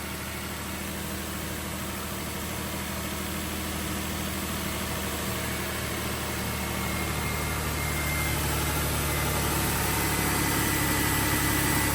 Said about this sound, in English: with this engine running, what I want to listen for is any crazy knocking sounds